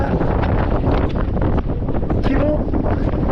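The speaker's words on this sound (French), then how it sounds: "le vent fait que monter" Strong wind buffets a racing sailboat off the French coast near Belle-Île, a loud, continuous broadband roar of gusts against the microphone that swells and eases without pause.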